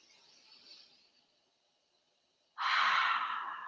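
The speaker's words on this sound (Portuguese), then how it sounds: "Convido todo mundo a fazer uma respiração bem profunda." A deep breath drawn in quietly, then released as a loud, breathy exhale through the mouth, close to the microphone, sustained for over a second with no talk.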